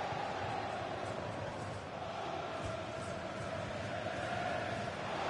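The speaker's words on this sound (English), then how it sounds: "Just listen to the crowd, Derek, urging their team on." Stadium crowd in a FIFA football video game, a steady roar of cheering and chanting that fills the whole stretch without break, with no distinct voice standing out.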